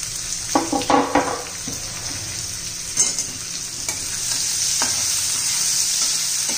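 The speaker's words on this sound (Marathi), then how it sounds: "कांदा परतून घेऊया." Finely chopped onion goes into oil with garlic in a pan and is sautéed, with several sharp spatula clacks and scrapes early on, then a steady, louder sizzle that builds toward the end, heard up close without talk.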